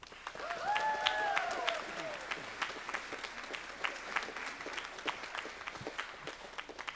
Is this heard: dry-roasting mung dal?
no